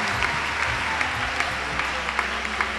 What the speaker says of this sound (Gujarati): 11-11 વિદ્યાર્થી માટે જોરદાર તાળીઓ પાડીને વધાવી લઈએ.